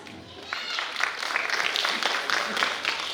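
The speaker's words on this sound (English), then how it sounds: "Please give a big round of applause." Audience applause at an evening awards ceremony honoring rising stars, clapping that swells after a brief start and holds as a steady, moderately loud patter of many hands.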